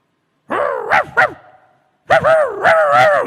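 A voice imitates dogs barking, giving a couple of short yelping barks, a pause, then a longer run of loud, close bark-like calls.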